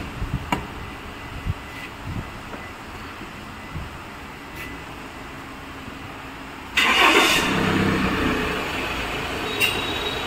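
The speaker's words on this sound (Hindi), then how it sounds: "देखिए फ्रेंड हमने गाड़ी चालू किया है," A Tata Safari engine turns over and catches near the end, rising into a steady idle after quiet background noise.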